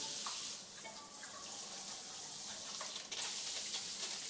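Water spraying from a newly installed rain shower head in a bathroom during a leak check, a steady hissing rush with small splashes, moderately loud and alone.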